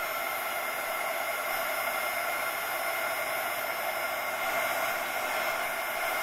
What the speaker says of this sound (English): if I'm in a rush, I'll just take my heat gun